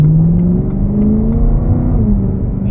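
A BMW M3's naturally aspirated V8 engine idles and revs with a deep, rough rumble, held steady and close for a few seconds with no voices.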